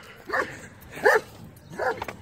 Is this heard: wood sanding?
no